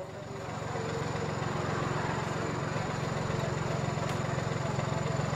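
Tractor engine running steadily while being ridden during a farmers' protest convoy toward Delhi, a continuous loud low rumble filling the whole stretch with some crowd noise.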